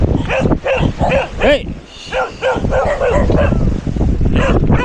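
A big dog barks and yelps repeatedly at close range, mixed with someone shouting over it in short bursts.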